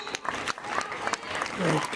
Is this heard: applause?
yes